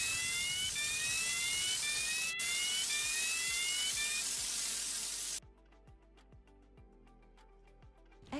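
A loud, continuous hissing spray of foam from a fire extinguisher blasts for several seconds, then cuts off abruptly, leaving quiet ticking and faint background noise.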